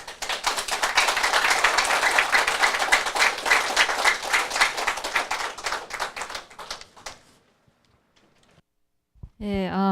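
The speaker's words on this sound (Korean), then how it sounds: "김명기 박사님께 다시 한번 뜨거운 박수 부탁드립니다" Audience applause after a lecture, broad dense clapping from a crowd that carries on for about seven seconds, then thins to scattered claps and stops, followed by a short burst of a voice at the end.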